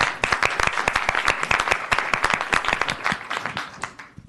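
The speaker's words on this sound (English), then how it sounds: "let's give everybody a round Round of of applause applause. for all of your hard work" A room at an awards meeting gives committee members a round of applause, with many hands clapping in a brisk, even patter that fades near the end.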